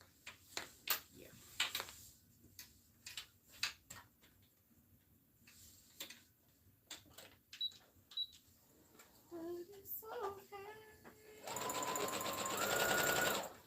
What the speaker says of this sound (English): I'm going to have to stitch all the way around the whole perimeter of this one